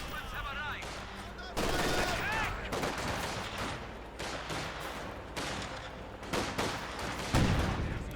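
Gunfire crackles through a Company of Heroes 2 battle, with an anti-tank gun among repeated sharp shots and bursts of varying loudness, some heavy booms standing out, while a voice talks over parts of it.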